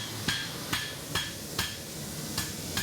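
A small hammer strikes sharply six times at a steady, unhurried rhythm, each tap close and distinct against a quiet room background.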